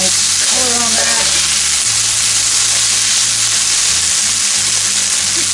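Homemade German spaetzle dumplings browning in a pan, giving a steady, loud sizzle with soft stirring scrapes throughout, and no talking.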